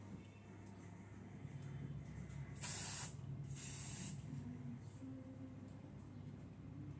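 Hair spray hisses from a can onto a styled hairdo in two short close bursts, over a quiet room hum.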